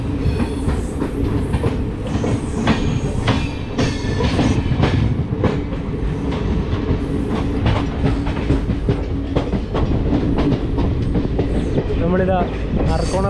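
West Coast Express passenger train with AC and sleeper coaches running on rails toward Arakkonam station, a steady loud rumble with rhythmic wheel clatter throughout, close and continuous, with a brief squeal near the end.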